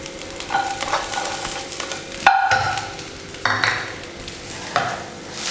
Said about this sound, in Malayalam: നമുക്ക് സവോള ഇതിനകത്തോട്ട് ചേർത്ത് കൊടുക്കാം